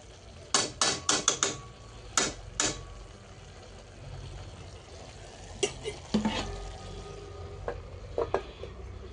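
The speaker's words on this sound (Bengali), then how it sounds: "এই বাঁধাকপিগুলা এগুলা ভেজে নিচ্ছি" Cabbage frying in a home kitchen pan, with a steady low sizzle under bursts of sharp utensil clatter and scraping, clustered early and again near the end.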